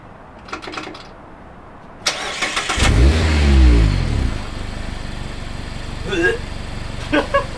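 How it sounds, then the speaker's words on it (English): A Mazda ND Miata with a Tomei Expreme Ti titanium exhaust starts and gives one loud, rising rev that sweeps up and falls away before settling to a low idle. Faint clicks and short knocks come before and after it. "you could hear the exhaust from all angles"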